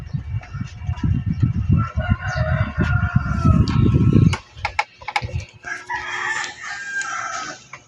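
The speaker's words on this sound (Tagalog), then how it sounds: "maingay yung mga manok" Chickens cluck and crow close by, a noisy flock with overlapping calls and a rooster crowing, over a low rumbling background.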